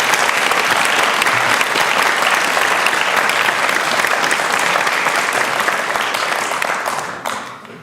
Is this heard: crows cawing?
no